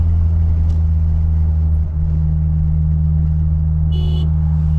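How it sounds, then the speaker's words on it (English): Car engine hums steadily in a low, constant drone while driving, with a brief dip near the middle like a gear change up into fifth, plus faint road noise throughout. "All that just to skip over 4th gear and hit 5th gear."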